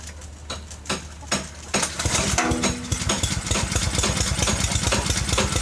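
A serviced tiller engine in a farmyard is pulled over a few times, then fires up and settles into a loud, close, steady chugging run.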